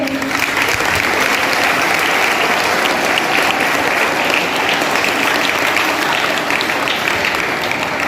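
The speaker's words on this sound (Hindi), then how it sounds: "जोरदार तालियां उनके." Loud, sustained applause from a large audience fills the space steadily and evenly from start to finish at a school chess competition event, with no voices rising above the clapping.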